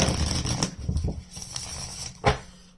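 Tarot cards being shuffled by hand, a quiet run of soft papery riffles and taps in uneven bursts, ending with one sharper snap.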